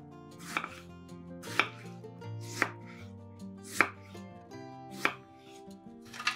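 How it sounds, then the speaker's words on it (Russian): A knife slices a tomato into slices on a board in even, spaced strokes, about six distinct cuts, close and clear over quiet music. "1 помидор разрезаем пополам и нарезаем пластинками"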